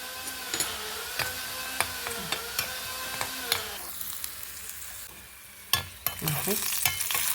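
Cashews and raisins roast in ghee with a steady sizzle, broken by repeated sharp scrapes and clinks as a spoon stirs the pan, with no talking.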